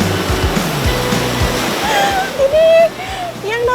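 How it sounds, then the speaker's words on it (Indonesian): Big southern-ocean waves crash and surge against a rocky coastline in a loud, continuous wash with bursts of splashing. Voices speak over it throughout. "Ini yang namanya ombak yang besar yang kita harus mundur."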